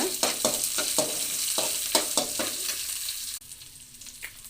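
Oil crackles and sizzles steadily as green chillies fry in a pan, with repeated sharp stirring scrapes punctuating the hiss before it quiets near the end.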